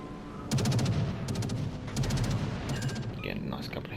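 Bombs from an aircraft carrier's planes exploding in World of Warships Legends, several rapid rattling bursts in quick succession over a low rumbling bed, loud and close, with no talk.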